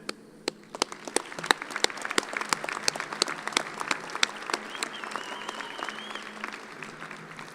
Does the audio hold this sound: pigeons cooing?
no